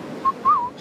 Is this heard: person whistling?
yes